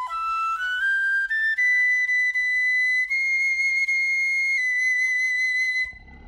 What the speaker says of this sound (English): A piccolo sounds like this.